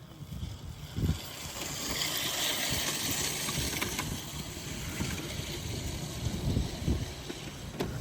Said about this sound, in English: He's on a much smaller dirt bike.